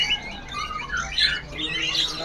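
Canaries chirp and tweet in a bird shop, several high bright calls overlapping at moderate loudness with no talk.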